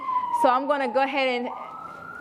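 Police sirens wail steadily in the background as they pass in the street while a person speaks over them, the sirens continuing after the talking stops.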